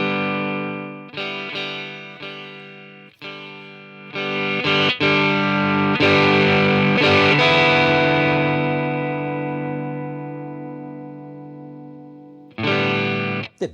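Distorted electric guitar played through a Line 6 Catalyst amp, loud sustained chords with a few sharp strums that ring out and slowly decay before a final stab, no voices.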